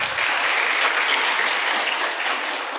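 An audience at a Tiens Indonesia seminar breaks into sustained, even applause, a dense wash of clapping that holds steady for about three seconds without voices over it.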